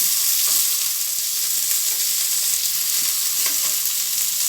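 Tomato and tamarind sauté in hot oil for urad dal chutney, giving a steady, loud, close sizzle with faint crackles throughout and no voices.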